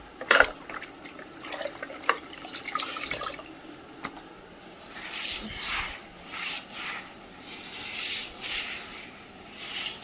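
Water drips and trickles inside a damp house where the floors stay wet, a faint, uneven patter of small splashes.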